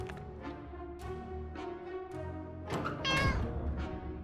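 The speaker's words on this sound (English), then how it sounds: "you have just meowed" A cat meows repeatedly in the survival video game 60 Seconds, a series of distinct cries followed by a louder, drawn-out caterwaul near the end, with a steady soft music bed underneath.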